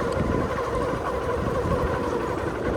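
A generator runs at a highway construction site, a continuous low engine drone and rumble that stays steady and fairly loud without break, with no speech over it.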